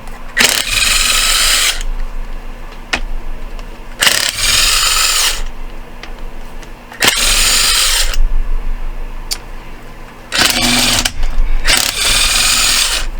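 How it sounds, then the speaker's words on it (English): Bolts on the engine case of a Yamaha Warrior 350 ATV being loosened in repeated loud bursts of a buzzing power tool, about five runs of one to two seconds each, separated by short pauses. "So start by taking all these bolts loose."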